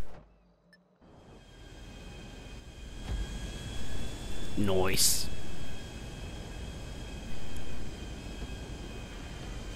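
A jet aircraft engine in the video game GTA Online drones steadily, with a rising whine that swells around the middle and surges again later, while players talk over it.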